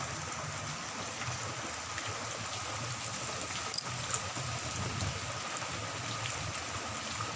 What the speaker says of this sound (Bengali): আজ সারাদিন এমনই বৃষ্টি হচ্ছে, প্রচুর বৃষ্টি